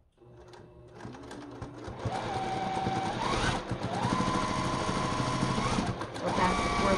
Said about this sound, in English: Get it under your needle, quarter inch seam, backstitch.